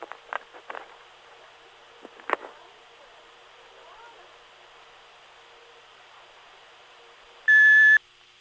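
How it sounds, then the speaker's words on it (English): After a few faint clicks and rustles, a single loud electronic tone sounds for about half a second near the end, like an answering machine beep. "If you wish to leave a message, please do so at the sound of the tone."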